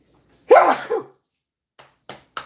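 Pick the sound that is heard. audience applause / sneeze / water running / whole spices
sneeze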